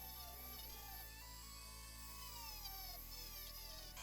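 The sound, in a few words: plug-in Dremel rotary tool running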